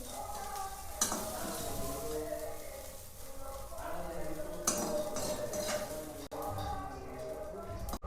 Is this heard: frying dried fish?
yes